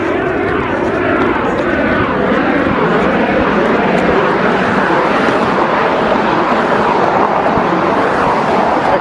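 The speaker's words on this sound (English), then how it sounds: "There goes a 737 from Southwestern Airlines overhead." A Southwest Airlines Boeing 737 jet passes overhead with a loud, continuous engine roar that fills the whole stretch, heard from street level in a city, with no clear rise or fade.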